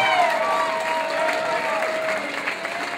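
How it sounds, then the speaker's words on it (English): Crowd at a cage fighting event applauding and cheering the two fighters after three rounds, a loud, sustained roar of clapping with whistles and voices mixed in. "a round of applause for both of the fighters in this cage"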